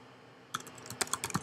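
Someone types a short command on a computer keyboard, a quick burst of fairly quiet key taps after a brief silence, no talking.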